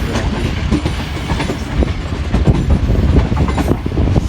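Millat Express passenger train rolling on rails near Shahinabad's well-known curve, a steady loud rumble with repeated clickety-clack wheel beats running throughout, close by and without talk.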